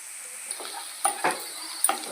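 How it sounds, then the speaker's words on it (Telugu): Onions frying in a pan for a phool makhana masala curry give a steady soft sizzle, with several brief louder bursts of crackle and stirring scrapes at fairly even intervals, no talking. "ఉల్లిపాయలు బాగా ఫ్రై అవ్వాలండి, గోల్డెన్ బ్రౌన్గా రావాలి."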